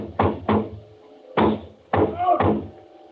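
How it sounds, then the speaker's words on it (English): Heavy thuds of a fist pounding on a door, two quick bangs, a pause, then a single bang and two more, loud and close with echoing resonance. "I went to the door, banged on it."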